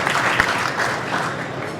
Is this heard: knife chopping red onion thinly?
no